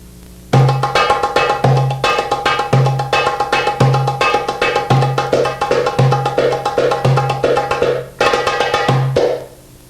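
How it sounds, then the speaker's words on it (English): A dumbek plays the syncopated 2/4 malfuf rhythm, deep bass strokes and sharp rim taps, close and loud, with no voices. "Malfuf is a 2/4 rhythm."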